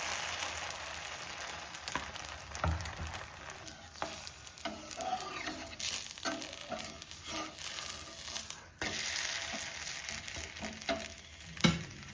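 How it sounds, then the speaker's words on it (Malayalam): Batter sizzles on a hot, oil-rubbed stone griddle for an orotti flatbread, a continuous close frying hiss broken by crackles and occasional scraping strokes. "കല്ല് ചൂടായിട്ടുണ്ട്. നമുക്ക് എണ്ണ തേച്ച് മാവ് വരി."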